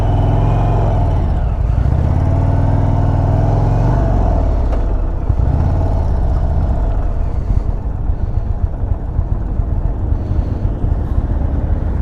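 An Indian Springfield Dark Horse motorcycle engine on a 2023 Sturgis test ride, its loud, close drone rising and falling in pitch as the throttle changes, with rushing wind rumble underneath.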